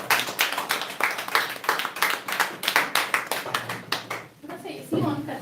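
An audience claps steadily to welcome a speaker in an indoor gathering, with dense rhythmic hand claps close and loud for about four seconds before tapering, and a voice speaking at the end.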